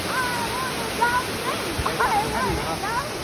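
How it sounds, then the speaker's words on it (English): Small waterfall along the NC500 route in Scotland, a steady rushing splash of falling water heard close, with faint higher bird-like chirps and people talking over it. "It's like a tiny waterfall."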